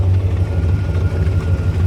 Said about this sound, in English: Idles really well, shuts nice.